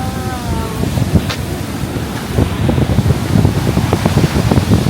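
Rushing water roars from a waterfall near Taupo, a loud, low, broadband wash with heavy wind buffeting on the microphone. It is steady and grows a little stronger toward the end, with no speech.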